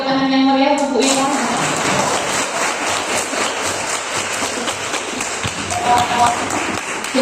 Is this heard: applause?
yes